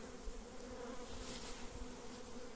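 Apis honey bees swarm around a cabiúna tree stump during a hive capture, a close, steady buzzing drone with no pauses and no one speaking.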